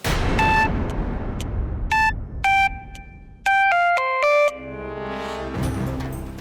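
A melodic mobile phone ringtone in an Odia TV serial scene: a run of bright electronic beeps stepping through different pitches, clear and fairly loud, ending in a denser sustained swell with no talking.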